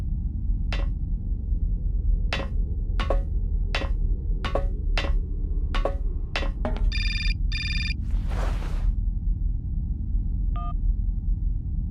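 A telephone rings in the PC adventure game Syberia: a run of sharp ticks, then a trilling electronic ring and a short buzzing burst over a low, constant rumbling ambience.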